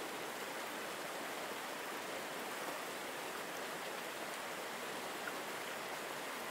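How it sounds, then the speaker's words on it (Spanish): A garden waterfall murmurs in a steady, even wash of falling water, soft and continuous throughout with no voices. "desde el constante murmullo de la cascada hasta el susurro de las hojas movidas por la brisa"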